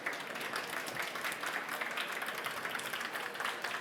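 Audience applause for a speaker at a tech conference session, a soft, even wash of many hands clapping at a distance, continuous and fairly faint for a few seconds.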